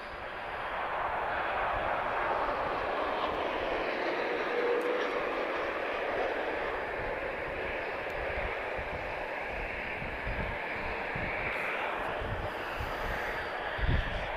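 A departing airliner at Lisbon Airport, a broad steady roar of jet engines heard from a distance, sustained and even throughout.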